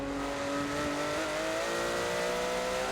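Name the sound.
Porsche GT3 race car crossing the line in a racing video game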